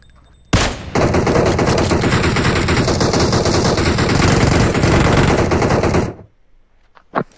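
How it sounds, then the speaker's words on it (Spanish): Loud, sustained automatic gunfire in PUBG Mobile, a rapid continuous burst lasting several seconds, then cutting off to near silence with a final faint click. "Tiros por allá abajo, lo veo."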